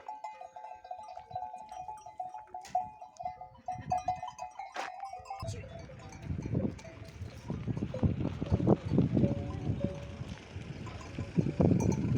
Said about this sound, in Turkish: çanlı koyun neredeyse eminim çünkü burada bir çan var.